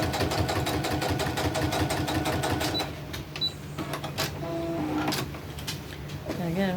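A sewing machine tacks a fabric piece onto a crazy crumb quilt block, its rapid rhythmic stitching running for about three seconds before stopping, followed by fabric handling and a voice speaking.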